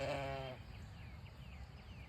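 A sheep bleats once, loud and close, at a creek crossing during a heavy rainstorm, then falls silent beneath a steady wash of rushing water.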